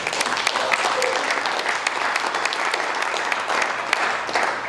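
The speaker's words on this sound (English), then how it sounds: "I even see a couple accountants clapping there." Lively applause from an audience at a certification program presentation, accountants among them, a steady clatter of many hands with a few sharper nearby claps and a faint murmur underneath.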